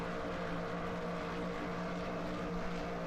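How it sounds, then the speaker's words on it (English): A helicopter tracks racing cars around the Circuit de la Sarthe in the Le Mans Ultimate racing game, giving a steady, continuous rotor-and-engine drone with a low tonal hum that stays even throughout, with no talking. "We can hear the helicopter just following the Mustang on through as they make their way through the Circuit de la Sarthe"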